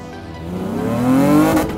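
A V6-swapped Toyota MR2, rated at 270 horsepower, accelerates hard with an engine note rising steadily in pitch and loudness over a couple of seconds, heard close and alone.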